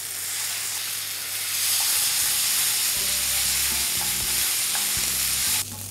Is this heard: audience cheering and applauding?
no